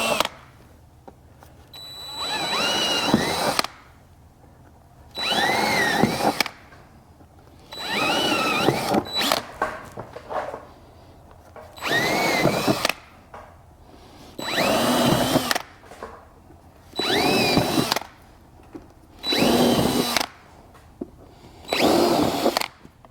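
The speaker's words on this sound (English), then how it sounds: "I'm going to swap out to the 3/16" bit that's provided in your kit. And we're just going to walk those holes out to the right size" Repeated bursts of a power drill widening rivet pilot holes with a 3/16 inch bit while fitting a rack on a 2022+ Ford Raptor/F150, eight short whirring runs separated by brief pauses, close and fairly loud.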